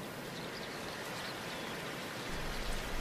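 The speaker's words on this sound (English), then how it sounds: "it began to rain" Steady rain falling, a dense even hiss of drops that swells slightly louder near the end, with no voices.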